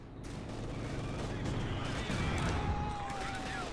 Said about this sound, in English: Machine guns continue to be a problem over here to the west.